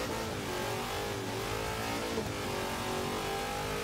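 A Hoonigan car in Forza Horizon 3 revs hard, its engine giving a loud, continuous roar that rises and holds without a break.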